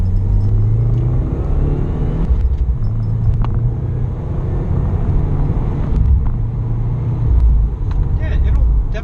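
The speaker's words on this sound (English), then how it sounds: "You're making that exhaust crackle like a champ" A 2015 WRX driving with a low, constant exhaust rumble, scattered with sharp crackles and pops from the exhaust, heard from inside the car.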